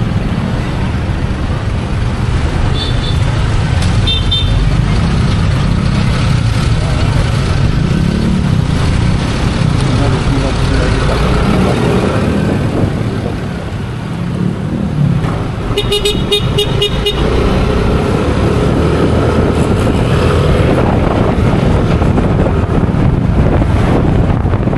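Road traffic in Cotabato City, heard from a motorcycle (Nmax 155): car engines and passing vehicles under heavy wind rush, with a few short horn toots breaking through.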